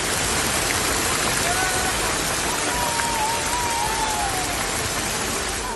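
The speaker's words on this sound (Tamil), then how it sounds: "கொடைக்கானல் மலைப்பகுதியில் கருமேகங்கள் சூழ்ந்து கனமழை கூட்டியது" Heavy rain pours in the Kodaikanal hills under dark clouds, a dense, unbroken roar of falling water that stays loud and steady throughout.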